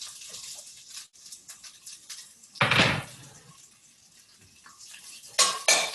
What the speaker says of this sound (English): So I have 1 medium onion just sliced, and I will add that to the pan.